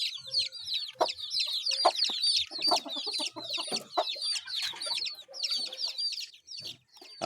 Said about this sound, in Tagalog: Marami pa tayong pakakainin ng mga sisiw.